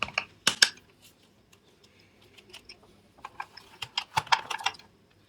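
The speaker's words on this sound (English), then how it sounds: "So I'll just undo the 2 screws you can see I'm doing here." Tiny screws are undone on the back cover of an Aiwa GS352 Walkman cassette player, giving small close clicks and ratcheting ticks from a little screwdriver, quiet and sparse at first, then a busier cluster of taps near the end.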